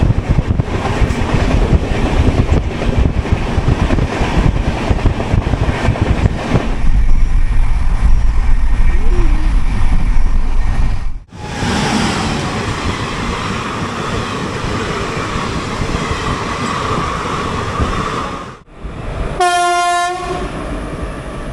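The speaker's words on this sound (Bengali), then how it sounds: "পাশে লোকাল ট্রেনও খুব জোরে ছুটছে।" The Poorva Express running fast on the Howrah to New Delhi line, loud continuous wheel and track roar with wind buffeting, a sudden change as another train passes close, then a brief sharp horn blast near the end.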